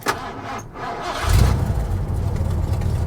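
A Ford Ranger with a 302 5.0 V8 engine cranks briefly and catches, then settles into a loud, rumbling idle that continues steadily to the end.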